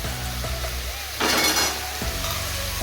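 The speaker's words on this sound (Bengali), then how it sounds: "ভেজে রাখা পেঁয়াজগুলোর উপর দিলাম আদা রসুন লঙ্কা বাটা" Onions with ginger-garlic-chili paste and ground cumin frying in a pan: a soft crackle that swells into a bright, louder sizzle for a moment, with low hums and a few clanks around it.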